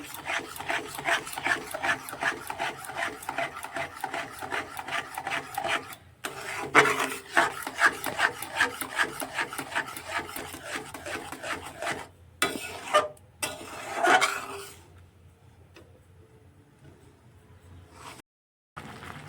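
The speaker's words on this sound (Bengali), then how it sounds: "আমটাকে এইভাবে ফুটিয়ে নেব। আমটা যাতে না লেগে যায়, তার জন্য সবসময় নাড়তে থাকতে হবে।" Thick mango pulp boils in a pan while a utensil stirs and scrapes it in quick, steady rasping strokes, close and continuous, with a few short pauses before it drops to quieter bubbling near the end.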